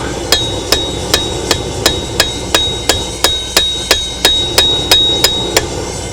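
A hammer strikes a rivet on knife tongs in a steady rhythm, about fourteen sharp, ringing metallic blows close up with no talking.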